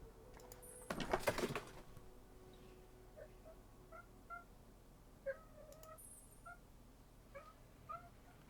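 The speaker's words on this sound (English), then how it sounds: "you can probably hear my cat in the background" Pet cat meows faintly in the background several times in short, spaced calls, after one louder burst of noise near the start.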